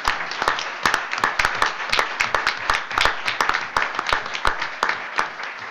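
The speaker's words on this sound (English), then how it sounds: "So a nice round of applause for our athletes." Students honored as high school athletes by the state athletic association receive applause from the audience at a school board meeting: steady, continuous clapping from a sizeable crowd, moderately loud, with no talk over it.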